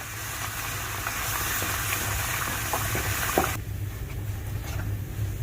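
Atta halwa being stirred with a spoon in a pan after the water and sugar syrup go in, giving a steady close sizzle and bubbling with a few soft scrapes. The sound drops to a quieter simmer partway through.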